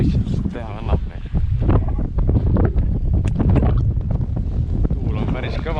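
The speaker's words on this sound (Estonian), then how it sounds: "Tuul on päris kõva" Strong wind buffets the microphone on Lake Saadjärv in Estonia while trolling for pike from a boat, a loud continuous roar with water and boat noise, and people talk over it.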